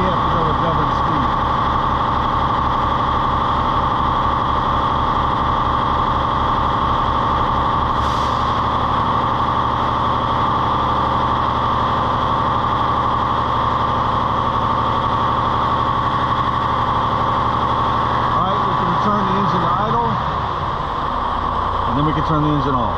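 A truck engine is held wide open at its governed speed of about 2,500 rpm during an alternator test, giving a loud, steady, even drone that holds for the whole stretch and dips slightly near the end.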